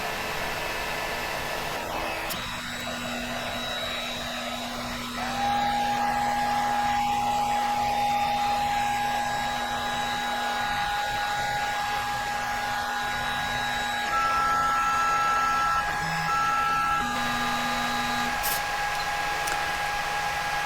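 A 3D printer runs continuously as it moves into print position, giving a steady mechanical whir with motor whines that shift in pitch and a sustained tone, loud and close with no speech.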